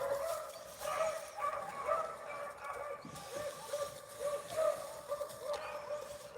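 Beagle hound pack barking on a rabbit chase, a string of repeated yelps and bays at moderate distance, fairly faint over outdoor background noise, with no talk.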